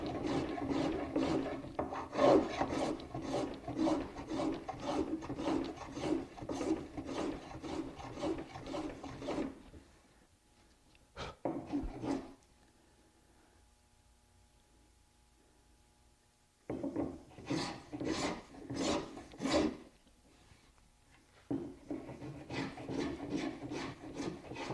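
Spokeshave shaving a tight curve on a hand-carved wooden table, rasping in quick repeated strokes in bursts with a long quiet pause between them, close and fairly loud.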